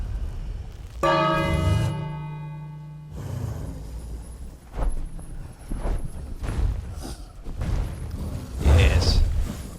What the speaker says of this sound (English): Now let's ring the bell.